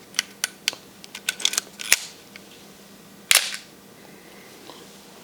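Pentax Spotmatic F film camera shutter firing at a faster speed, with a few crisp mechanical clicks of the advance lever and one sharp shutter snap standing out, close and alone in a quiet room.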